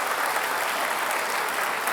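A studio audience at a televised Jakarta gubernatorial election debate claps for the two candidates, dense continuous applause filling the room at an even, loud level.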